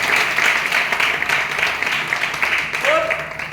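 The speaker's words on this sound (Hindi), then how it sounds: "जोरदार ताली मारी।" Audience clapping at a business meeting, a sustained dense wash of applause from many hands filling the room, steady and fairly loud throughout.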